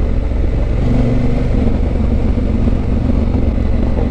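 A Honda CRF1000L Africa Twin motorcycle rides along a road in Slovenia, a loud continuous engine drone with wind rush and a steady low rumble, heard close from the rider's position without talk.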